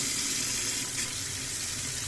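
A hot water tap, opened after a gas boiler repair, runs in a continuous rushing stream into a sink, steady and close, with no talking.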